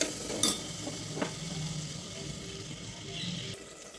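Close stirring and scraping of finely cut raw potatoes in a pan over a soft sizzle, with a couple of sharp clinks near the start; no talking.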